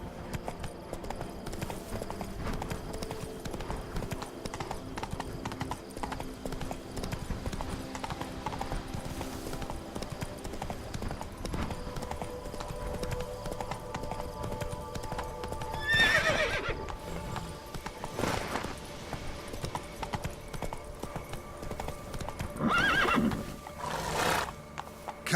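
Roach, a horse in The Witcher 3 video game, trots with a steady clip-clop of hooves and lets out two loud whinnies near the end, over faint game ambience.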